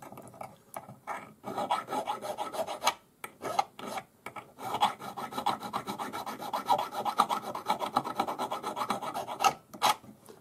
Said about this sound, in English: I'm just going to use a round jeweler's file, number 2 cut, once again.